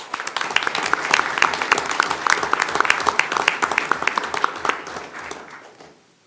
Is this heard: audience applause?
yes